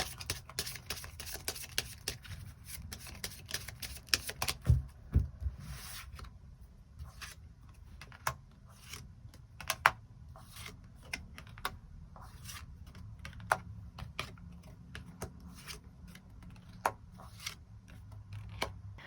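Tarot cards shuffled and drawn one by one, a long string of close, crisp flicks, taps and rubbing clicks in an irregular rhythm, with no talking.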